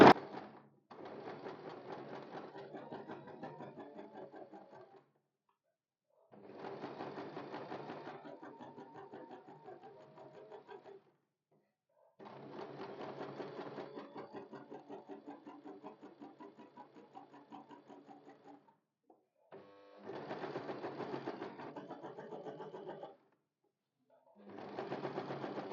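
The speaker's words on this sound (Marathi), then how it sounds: "चला आता आपण गळ्याला दाब शिलाई मारून घेऊया." A sewing machine runs in several bursts of steady rapid stitching while topstitching a blouse neckline, with short quiet pauses between runs, close and fairly loud.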